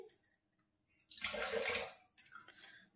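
A little water is scooped by hand while shaping lacha nimki dough, making a short close splash followed by a quieter second trickle.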